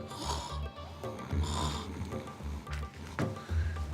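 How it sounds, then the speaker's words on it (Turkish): A man snores loudly in a bedroom, with rhythmic rasping snores and snorts repeating about once a second, close and steady with no speech. "senin horlaman da böyle bir eğitimli bir sesin olduğu belli yani"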